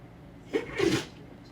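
A single sharp sneeze from a person up close, a quick inhaled catch followed by a louder burst, brief and alone against a quiet room.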